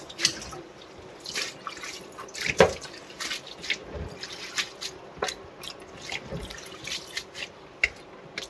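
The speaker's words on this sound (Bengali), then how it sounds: "এখন ধোয়া চলছে বাঁধাকপি।" Cabbage being rinsed in a kitchen sink under a running tap, with scattered drips, splashes and wet squishing at an uneven pace, close by and moderately loud, no talking.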